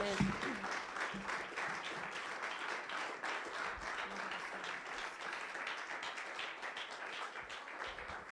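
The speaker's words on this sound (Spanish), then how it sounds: "Denle un aplauso a Jesucristo." Church congregation breaks into sustained applause for Jesus Christ at a Spanish-language service, a dense, even roar of many clapping hands with a few faint voices mixed in, continuing for about eight seconds.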